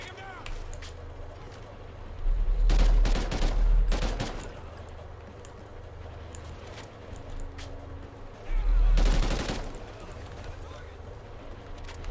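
Gunfire in Call of Duty: Ghosts erupts in two loud bursts of rapid shots, one early and one later, with quieter battle ambience between them.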